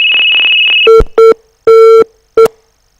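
Telephone busy signal from a failed call-in line during a live radio program: a steady high tone first, then four loud, evenly spaced beeps separated by silent gaps, with no voices.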